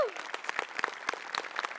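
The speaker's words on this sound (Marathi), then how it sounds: "तुझ्यासाठी टाळ्या" Studio audience clapping for a comedy performer on a Marathi comedy show, a dense, lively run of claps with sharp individual hits, steady and fairly close throughout.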